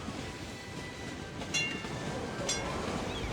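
Trams roll through a snowy city in Cities: Skylines, giving a steady rumbling rail clatter with a couple of brief higher squeals, heard at moderate distance without talk.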